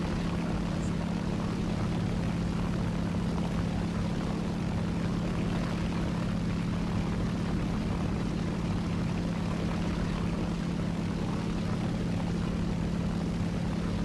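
Continuous droning roar of a propeller airplane flying in War Thunder, loud and steady throughout with a low engine hum beneath broadband noise.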